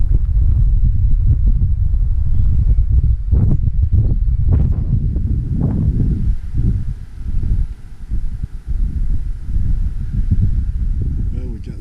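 Steady wind buffets the microphone with a low rumbling roar on a mountain backpacking trail in Grayson Highlands, gusting unevenly throughout, with faint rustling beneath.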